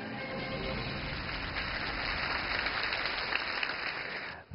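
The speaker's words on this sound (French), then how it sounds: "Applaudissements pour Monsieur Su" Sustained applause from a seated audience welcoming Monsieur Su to a lecture session: dense, even clapping that holds steady for several seconds before cutting off abruptly at the end.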